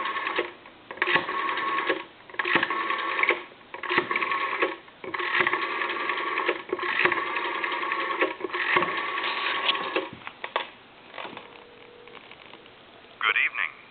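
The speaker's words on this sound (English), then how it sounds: "I'm going to dial a time and temp number" A rotary desk telephone is dialed through the phone line, its bursts of rapid dial-pulse clicking breaking up a steady tone, all narrow and tinny, with a voice briefly heard near the end.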